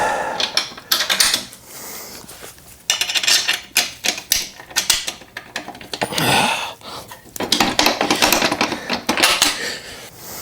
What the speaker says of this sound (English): Put the bolts down into it.